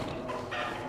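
Chickens cluck softly inside a hen house in the game Darkwood, a low continuous murmur of fowl noise with a slightly brighter burst midway, close and unbroken.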